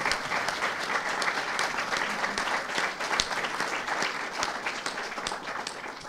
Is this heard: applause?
yes